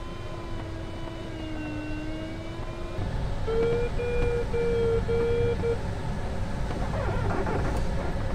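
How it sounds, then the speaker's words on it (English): Light aircraft engine of a tow plane flying below, heard from a glider in flight: a steady droning hum with a tonal whine that shifts pitch partway through, over constant wind noise. "that's the tow plane going back to land"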